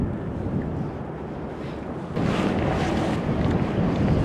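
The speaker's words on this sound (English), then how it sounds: "the wind is blowing me back up" Wind gusting over a kayak on a river with moving current, a steady close roar of microphone wind buffeting that grows louder partway through, with no voices.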